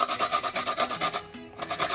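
Unpeeled burdock root rasped against a grater in quick rhythmic strokes, a dry scratchy scraping repeated about four times a second at close range, with one brief pause.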